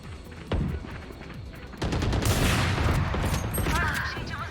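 A firefight in the video game Valorant: gunfire starts with a single sharp shot, then dense overlapping bursts and rapid fire with mechanical clicks grow louder and busier toward the end.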